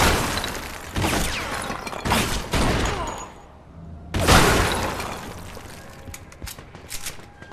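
Bursts of gunfire in the Mafia 2 video game, loud rapid volleys with shattering crashes, a brief lull, then another heavy barrage fading into scattered shots.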